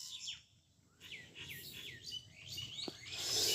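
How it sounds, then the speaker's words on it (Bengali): Birds chirp in quick, sharp tweets close by, several calls in a row over faint background hiss with no talking. "দেখি পাখিগুলো এত চেঁচাইতেছে ভাই"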